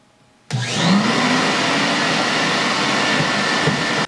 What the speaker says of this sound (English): just grab your vacuum hose, kick on both vacuums, and suck the rest of it back out